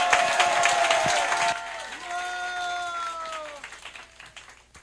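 Applause at a political party youth committee launch and appointment ceremony rises briefly, then fades as a musical tone plays over it and the clapping thins out.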